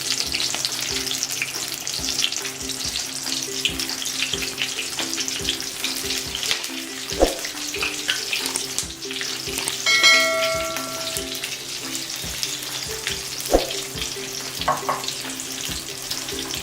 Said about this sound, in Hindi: आपने इसको अच्छे से फ्राई करना है तब तक के लिए, जब तक इनका कलर ब्राउन आ जाए